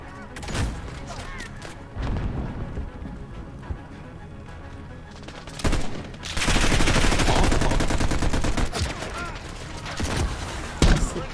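Gunfire in the video game Call of Duty: Modern Warfare, scattered single shots and short bursts, then a sustained rapid automatic stretch followed by more sharp isolated cracks over game ambience.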